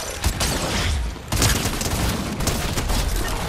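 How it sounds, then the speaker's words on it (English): Gunfire in Fortnite's Fortnitemares 2024 zero build solo mode: dense, continuous volleys of shots and booms, loud and sustained throughout. "Who's shooting over here?"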